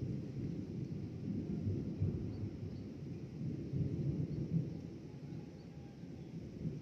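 Low thunder rumbles on and off through a rainstorm, with wind and rain noise underneath and no clear sharp cracks.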